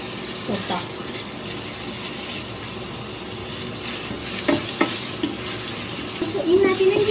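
Ground pork sizzles and gets stirred in a frying pan while cooking brains for a Cebu-style dish, a steady hiss of frying with a few clanks of the utensil and faint voices in the background.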